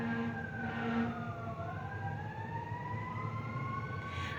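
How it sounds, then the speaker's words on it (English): An emergency siren wails in the distance, its pitch sweeping slowly up and down, steady and moderately faint over background noise. "I don't know if you can hear the sirens,"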